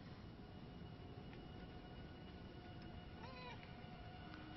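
A cat meows once in the video game Murdered Soul Suspect, a brief wavering cry over a steady, noisy rumbling game backdrop, with a few faint tonal blips around it.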